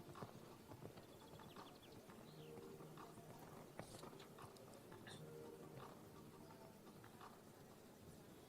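A dressage horse performs a medium canter in a 4-star eventing test at a Nations Cup in Strzegom, Poland, its hoofbeats a faint, steady rhythmic clip-clop in an open arena.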